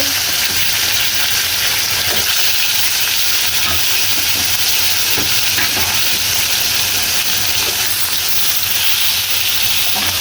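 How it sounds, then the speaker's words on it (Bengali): Snakehead (shol) fish frying in hot oil in a pan, a loud, constant hiss and sizzle filling the whole stretch, close up and unbroken, with no talk over it. "তেলটা আমার গরম হয়ে গিয়েছে, আমি এখন মাছ ভেজে নেব।"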